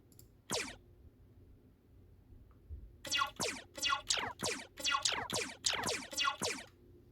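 A Roccat Vulcan 122 AIMO keyboard plays its sci-fi key feedback sound: one sharp synthetic blip, a pause, then a quick run of about nine similar electronic chirps in an even rhythm, close and clear with no talk.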